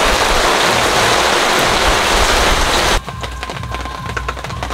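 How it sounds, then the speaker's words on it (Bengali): Sudden rain pours down as a loud, dense hiss, then drops to a lighter, thinner patter partway through. "হঠাৎ করে বৃষ্টি এসছে"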